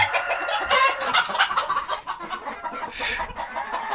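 Chickens and roosters, including a black rooster, cluck and squawk close by in a farmyard flock, with busy overlapping calls that stay fairly loud throughout.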